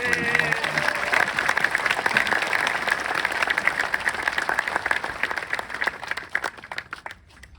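Outdoor audience at a veterans memorial park ceremony in Sonoma applauding the committee, color guard, singers, ushers and scouts, a long run of crisp clapping that thins and fades out near the end.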